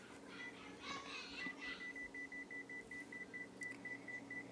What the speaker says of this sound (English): When the timer went off, I took it out